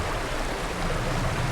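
Water flowing in a tiny creek where trout are fished, a steady, close broadband rush with no talk over it.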